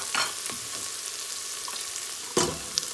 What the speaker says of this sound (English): So our onion is frying up nicely